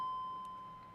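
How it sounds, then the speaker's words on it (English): A BMW E46 M3 with SMG gearbox sounds a single steady, high electronic beep that lasts just under a second, fairly faint and alone in a quiet setting. "Car's beeping at me."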